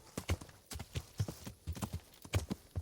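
Horse hooves clip-clopping in Kingdom Come: Deliverance, a steady rhythmic run of hoofbeats, close and distinct with no talking over them.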